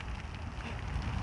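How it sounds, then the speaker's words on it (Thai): Steady rain falling outdoors among a garden of plants being readied for a contest, a dense, even hiss that continues without a break and carries no voices. "วันนี้นะฝนตกด้วยนะครับช่วงที่เราถ่าย"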